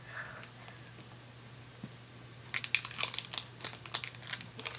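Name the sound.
opening a cottage cheese package with a pull tab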